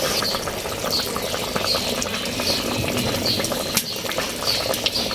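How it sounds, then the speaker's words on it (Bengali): Native chicken curry being sautéed in a pan on a clay stove, a steady bubbling, hissing cook with soft stirring knocks and crackles, close and continuous. "তো এই যে মুরগি কষাচ্ছি, কষানো হোক, এখনো ঝোলের পানি দেই নাই,"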